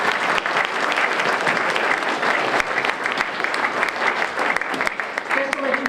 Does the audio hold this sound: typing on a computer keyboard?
no